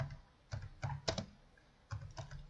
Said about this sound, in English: That means that we need to type some string. Let's type some text.